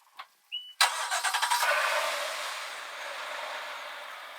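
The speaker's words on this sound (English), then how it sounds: "Start this engine up." A Volvo Penta 5.0L V8 inboard/outboard boat engine cranks briefly after a couple of clicks, catches with a series of rapid pulsing firings, then settles into a steady loud idle nearby.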